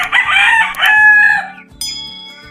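Kelso gamefowl roosters, one talisayin and one red, crow loudly and close by, with a long strained crow followed by a second shorter call, alone without talk.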